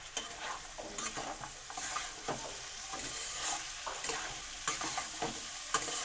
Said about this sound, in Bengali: কুমড়োটা এবার ভালো করে নেড়ে চেড়ে